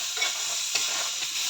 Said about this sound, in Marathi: तर टोमॅटो पण छान भाजून घ्यायचं